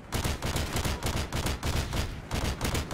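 A PP2000 machine pistol rattles off rapid bursts in Modern Warfare 2, loud, close, fast-repeating shots in tight clusters with only brief gaps between them.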